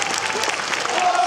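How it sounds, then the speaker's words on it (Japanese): Dense crowd applause at a Nagasaki Kunchi festival performance, Ginyamachi's Shachi Daiko drum troupe at Suwa Shrine, a steady wash of many hands clapping throughout without a break. "写真代表にもう一度拍手を。"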